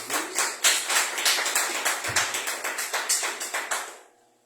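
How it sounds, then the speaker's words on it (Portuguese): Church congregation applauding for Jesus, a rhythmic, unified burst of clapping in steady beats that stops abruptly at the end. "Uma salva de palmas para Jesus"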